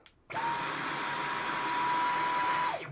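A Dyson V12 Slim cordless stick vacuum on medium runs with a steady, loud motor whine at an even pitch with a high tonal edge, starting abruptly and cutting off with a falling whine.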